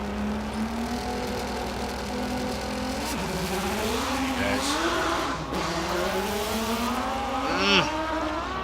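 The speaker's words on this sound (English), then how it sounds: "That's the WSR Super Renault engine is howling in there." Race car at a hillclimb with a WSR Super Renault engine howling at high revs, rising and falling as it climbs through the gears, heard loud and continuous under a commentator's voice.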